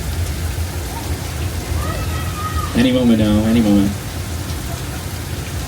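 Artificial rain pours on a Universal Studios Hollywood studio tour set, a steady broadband rush running throughout beneath a guide speaking.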